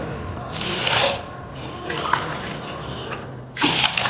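Two glasses of water pour into a pot of washed rice for lemon rice (pulihora), a broad splashing rush in short bursts, fairly close and moderately loud, with brief pauses between pours.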